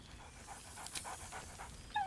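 A dog named Scratch in the video game Baldur's Gate 3 pants in quick, soft rhythmic breaths, then lets out a brief, high whine at the end, heard quietly and alone.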